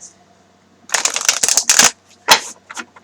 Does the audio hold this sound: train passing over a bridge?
no